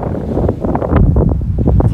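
Wind sweeps over the Patara sand dunes near Antalya, a steady loud roar buffeting the microphone, with faint rustling bursts mixed in throughout.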